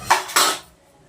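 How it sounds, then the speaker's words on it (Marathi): Kitchen utensils and metal pots set down on a counter, two quick clattering clinks in a row ringing out briefly before fading, close and fairly loud. "भांडे खाली ठेवते तोपर्यंत."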